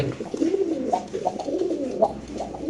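Fancy Madrazi pigeons at a breeding farm coo in repeated low, throaty rolling calls. The sound is close and loud and overlaps from more than one bird.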